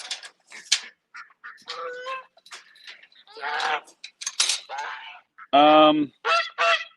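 Farm goose honking loudly and close by in repeated harsh calls with short gaps, some other fowl sounds and brief voice fragments between honks.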